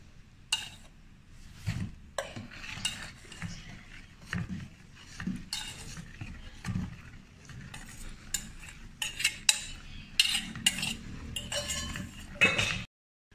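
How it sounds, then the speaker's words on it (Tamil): Semolina (rava) is stirred into a batter for a vegetarian steamed cake, and a metal spoon scrapes and clinks against the bowl in an irregular, busy rhythm that sounds close by and carries on steadily. "ரவா மாவை கொஞ்சம் கொஞ்சமாக கொஞ்சம் கொஞ்சமாக போட்டு நம்ம இந்த இதில் கிளறிக்க போகிறோம்"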